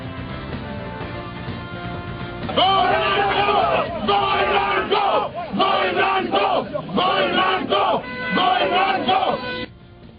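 A crowd in Peshawar chants political slogans, loud rhythmic group shouting in repeated bursts with short pauses between, led over a steady background hum.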